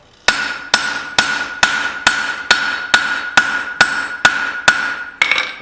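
A hammer strikes a small hatchet blade on an anvil during forging, about ten sharp ringing blows at a steady, even rhythm, loud and close, each with a bright metallic ring.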